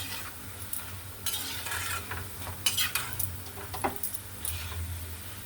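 Food fries in a pan on a gas stove, first on high heat and then on a low simmer, giving a steady sizzling hiss. Sharp scraping and clinking from stirring with a metal utensil breaks in at intervals, and no one speaks.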